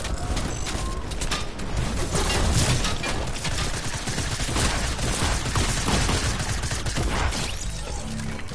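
Sustained gunfire in a shooter game as the shooter nears the end of a magazine, a loud, nearly unbroken rattle of rapid shots and crashing impacts heard close up throughout.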